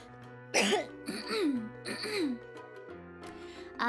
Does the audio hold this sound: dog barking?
no